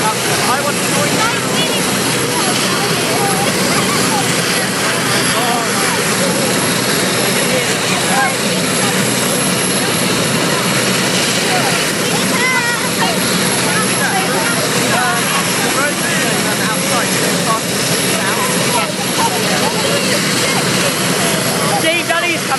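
Helicopter flying over a school, its rotor and engine roar loud, steady and continuous throughout, with voices of people chatting beneath it.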